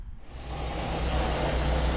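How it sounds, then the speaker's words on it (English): Wood chipper running at a tree service job, a steady, loud mechanical roar that builds slightly, heard up close with no talk. "I'm standing next to the chipper, so apologize for the noise."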